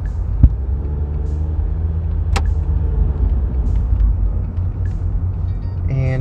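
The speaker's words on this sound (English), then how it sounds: "All right, so we're just driving now" A car fitted with hand controls for braking and accelerating drives along with a steady, close engine and road rumble from inside the cabin, marked by a couple of brief clicks and no talking.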